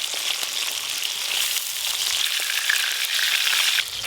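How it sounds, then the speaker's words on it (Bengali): Fresh pond fish frying lightly in a pan of hot oil, giving a steady, close, crackling sizzle that runs unbroken throughout with no voices. "এই মাছগুলো একদম হালকা করে ভেজে নেব।"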